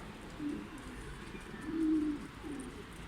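Pigeons coo softly in low, rolling calls, a few phrases spread over several seconds against faint background noise.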